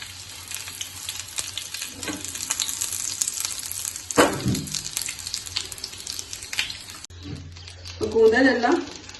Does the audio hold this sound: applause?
no